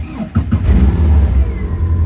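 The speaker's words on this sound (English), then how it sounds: "you can hear the ECU power up" Subaru 2.5-litre 180 hp engine in a widebody Speedster replica, cold, cranking briefly and catching into a steady low idle rumble, close and loud.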